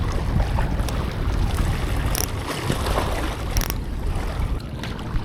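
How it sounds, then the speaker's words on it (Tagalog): Strong wind buffets a fishing boat on open water, a steady loud broadband rush with gusting microphone noise and water washing against the hull throughout. "Malakas ang hangin, palubukin natin."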